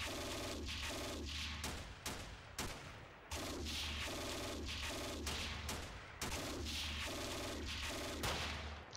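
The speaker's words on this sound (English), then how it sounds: "Let's shoot this squad here." Bursts of gunfire from the wargame Steel Panthers as infantry squads are fired on, several volleys of rapid crackling shots in clusters with short pauses between, fairly faint overall and with no voices.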